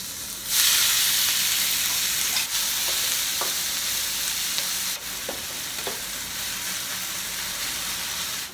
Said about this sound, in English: The potato is cooking